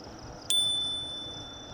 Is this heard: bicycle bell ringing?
yes